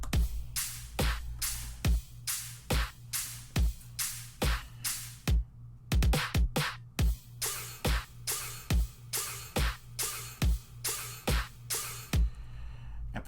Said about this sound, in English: So the drums in this drop sound like this.